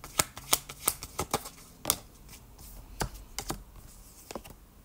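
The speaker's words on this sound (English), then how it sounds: "shuffle your cards and see what we have coming" Tarot cards being shuffled by hand: a series of crisp, close riffling flicks and taps in irregular bursts, fairly quiet, with no talking.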